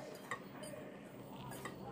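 Cupcake batter being mixed in a bowl at home, a steady low scraping and stirring with faint clinks of utensil against the bowl throughout, fairly quiet and close.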